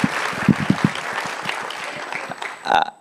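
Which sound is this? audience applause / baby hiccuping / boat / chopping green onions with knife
audience applause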